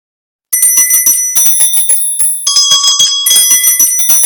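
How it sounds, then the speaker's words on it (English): Bright, ringing bells jangle close and loud in repeated shaking bursts, sustained metallic tones layering over one another, alone without any voices. "Lucas couldn't ignore the eerie sound of bells, ringing ominously in the distance"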